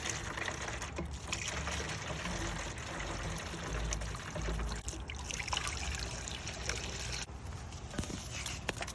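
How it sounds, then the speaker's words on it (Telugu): Rice-washing water poured into a pot of aviyal, a steady liquid splash and trickle running close by for several seconds with no talking. "అలా బియ్యం కడిగిన నీళ్ళు అందులో పోసేస్తాం."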